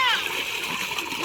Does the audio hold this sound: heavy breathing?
no